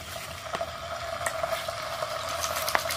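Blended paste of onion, garlic, ginger and dried chili hits hot oil with a moderate crackling sizzle, alongside intermittent scraping and clinking from stirring in the pan.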